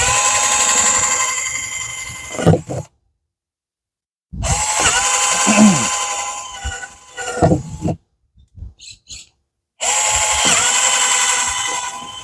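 A power drill bores drainage holes in soil bins for a garden bed, in three long loud whirring runs separated by silences, with a few brief knocks between them.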